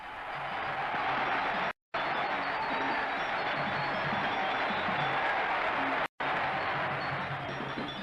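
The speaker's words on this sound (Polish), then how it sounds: "Szczęścia dla Polski wołali przechodnie." A street crowd in Rangoon during a 1957 motorcade cheers and applauds steadily, a dense wash of sound with two brief cuts to silence.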